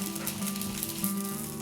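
Flatbread dough pan-fries until golden, giving a soft, steady sizzle close by with faint crackles, brief and quiet, with a low hum underneath.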